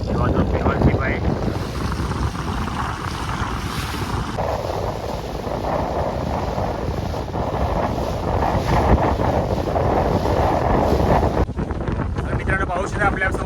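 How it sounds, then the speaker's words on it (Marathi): A fishing boat off Mumbai heads out to deep sea, its steady engine drone mixed with rushing wind buffeting the microphone and the wash of open water, continuous and close. "आपली बोट चालली खोल समुद्र दिशेला, पाहू शकता आपण."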